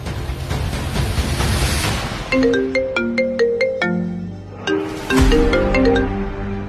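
A phone rings with a bright, repeating electronic melody, loud and close, in two bursts separated by a brief pause, over a steady background hum.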